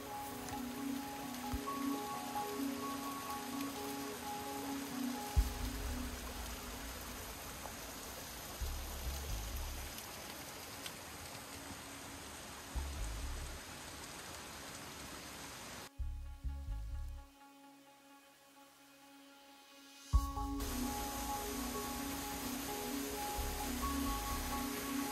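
Steady broadband rush of a waterfall on the Azusa river, with rain-like splashing and stream noise filling the whole clip, briefly dropping and quieting for a few seconds before the constant roar returns.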